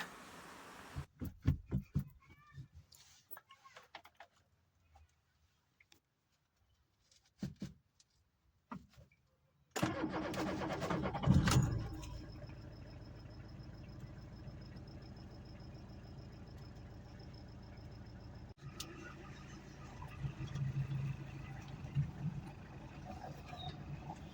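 A Tata Indica car engine cranks and catches after a few quiet clicks and rattles, then settles into a steady, fairly quiet idle with a faint rhythmic knock.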